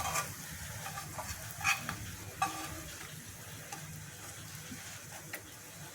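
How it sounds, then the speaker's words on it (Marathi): Fasting cutlets pan-roast in a pan until crisp on both sides, giving a soft, steady sizzle with occasional faint ticks and clinks, quiet and close. "दोन्ही साईडने असे मस्त खरपूस भाजून घेऊ"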